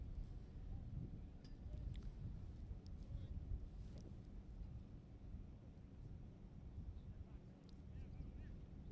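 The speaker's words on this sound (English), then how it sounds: "the wind really beginning to blow even here in the cherry picker where we're sitting" Wind buffets the microphone at an outdoor polo match, heard from a raised cherry-picker commentary position: a continuous low rumbling roar with gusty swells and faint distant sounds above it.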